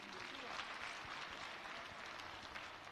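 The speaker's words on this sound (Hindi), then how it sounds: "एक बार जोरदार तालियां बजा दीजिए" Applause from the audience at a school children's folk dance competition, a faint, dense patter of clapping running steadily without a break.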